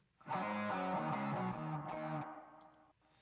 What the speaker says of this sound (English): We have these harmonic guitars. Let's hear what they're doing.